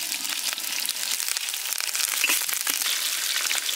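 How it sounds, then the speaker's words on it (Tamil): Freshly picked curry leaves dropped into hot oil while making crab Chettinad outdoors in a village, crackling and spitting in a loud, continuous sizzle with busy popping throughout, no voices. "கருவேப்பிலையை போட்டுக்கலாம்"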